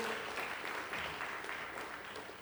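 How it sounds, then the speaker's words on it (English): An audience claps steadily in a brief burst of applause at a tax refresher course. The sound is moderate and diffuse, with no talking over it. "Let's have a big round of applause for each one of you."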